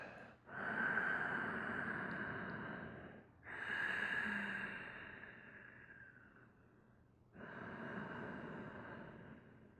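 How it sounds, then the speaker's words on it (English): Someone in a seated yoga twist breathes slowly through the nose, with three long, soft exhales separated by short pauses, close and quiet, with no talking. "Just breathe, relax. Those exhales help facilitate the twist."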